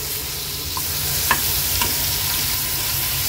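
Hilsa (pala) fish pieces frying in a pan, a steady close sizzle carrying on throughout, with a couple of faint ticks and scrapes as the pieces are turned over one by one, and no talking.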